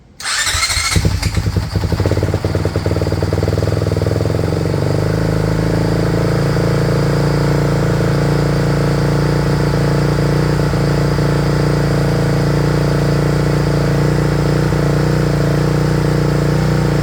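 A Honda CRF450R RWE Works Edition motorcycle fitted with a Yoshimura RS aftermarket exhaust starts with a quick crank and catches. It then settles into a loud, steady, close idle that drones on alone without talk.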